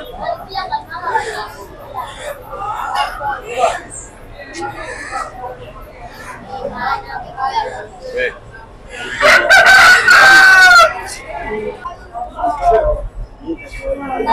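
Chickens and a rooster at a busy market in Mombasa, Kenya, where local birds and eggs are sold; a loud rooster crow rises mid-way over clucking, crowd noise and someone talking throughout.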